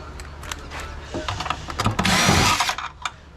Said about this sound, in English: I have a nice drill here, but these impacts